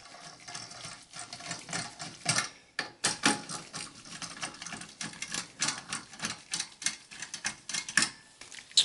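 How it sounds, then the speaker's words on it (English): Phillips screwdriver removing screws from a Dell Precision T1700 desktop case: quick, irregular ratcheting clicks and metallic ticking, close and fairly quiet, coming in short repeated bursts with no talking. "So I'm gonna start off the bottom and remove the two screws here."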